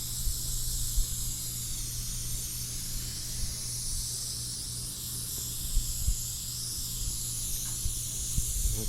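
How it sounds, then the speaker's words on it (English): A steady, continuous high hiss of spray adhesive from an aerosol can runs throughout a vehicle interior job, with a low hum underneath and a few faint knocks. "So let's spray this other side."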